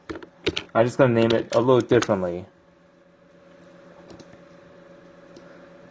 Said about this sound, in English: if you hear any background noise, that's because I'm typing.